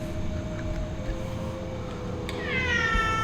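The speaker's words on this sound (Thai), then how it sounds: "ตกใจแมวอีกแล้ว" A cat lets out a single rising meow near the end, heard over a constant low hum and background noise in an indoor room, with no talking.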